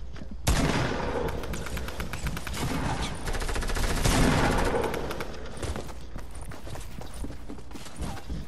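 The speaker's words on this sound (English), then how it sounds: "I'm getting shot from top over here" Rapid bursts of gunfire crackle through a Fortnite match, dense and loud at first, then continuing in sparser volleys and scattered shots with mechanical clatter behind.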